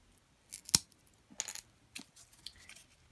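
A scored popsicle stick snaps off in a sharp, close crack, followed by a few faint clicks and small handling taps.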